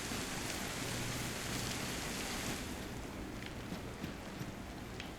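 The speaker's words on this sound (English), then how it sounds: "Rain's covering my tracks, that's good." Steady rain falling in the DayZ survival game, a dense constant hiss throughout with faint tapping drops, thinning slightly after the first few seconds.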